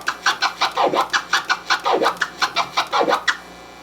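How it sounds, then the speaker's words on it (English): DJ turntable scratching that alternates flares and chirps, a fast steady run of short swiping scratches with sharp downward sweeps about once a second, close and loud on its own. "That's a flare and a chirp being alternated."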